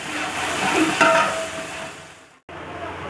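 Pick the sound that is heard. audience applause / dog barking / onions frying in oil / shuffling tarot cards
onions frying in oil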